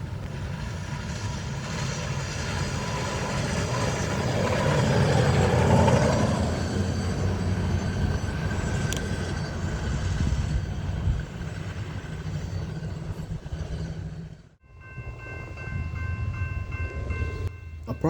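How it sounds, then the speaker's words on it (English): A westbound hi-rail inspection vehicle runs along a main line of the Norfolk Southern Chicago Line in South Bend, Indiana, a steady close rumble that swells as it passes and then drops away, with no one talking. "we had to wait on a westbound high railer that happened to be inspecting one of the main lines"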